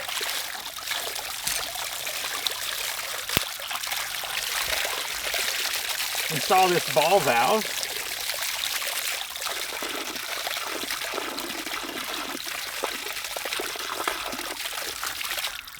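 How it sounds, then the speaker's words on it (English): Water flows steadily out of a ram pump pipe fitted with a ball valve, a constant close rushing trickle with a brief burbling surge in the middle, while someone speaks over it. "Now I can control the amount of water that flows out of this pipe."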